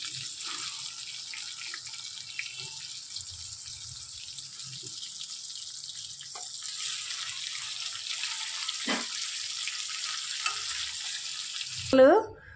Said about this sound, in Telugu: అలాగే అన్ని చేప ముక్కలు కూడా వేయించుకోవాలి